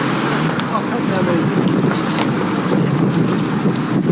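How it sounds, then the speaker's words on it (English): Wind buffets a microphone outdoors at a wedding, a loud continuous rumbling roar that fills the whole stretch and drowns out other sound. "Oops, watch out for that wind."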